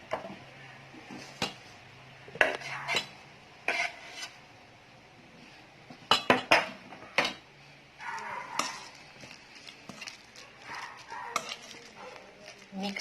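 A spoon works through a chicken sandwich spread mixture in a bowl, giving irregular sharp clinks and knocks on the bowl with short scraping bursts between quiet gaps.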